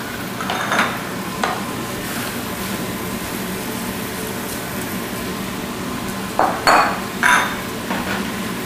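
Spinach being stirred and tossed in a pan of hot olive oil with garlic, a steady soft sizzle with occasional scraping clatters of a utensil against the pan, no voices.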